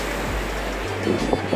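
Ocean surf washes onto a beach in Ilhéus, Bahia, a steady broad rush with wind buffeting the microphone.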